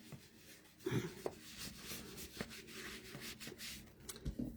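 Soft, irregular scrubbing of a dauber loaded with Distressed Oxide ink across paper, close and quiet, with short rubbing strokes and small taps.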